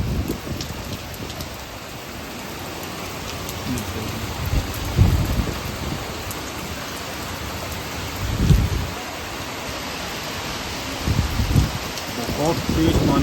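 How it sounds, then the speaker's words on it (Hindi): Heavy rain pours down steadily on a balcony, a dense continuous hiss broken by several deep thunder rumbles, with someone speaking at times over the downpour. "इतनी तेज बारिश हो रही है कुछ कहने को नहीं"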